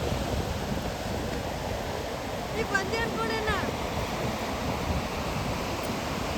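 Surf at Tannir Bavi beach in Mangalore rushes in a continuous steady wash, mixed with wind buffeting the microphone, and a brief faint chirping rises from the background partway through.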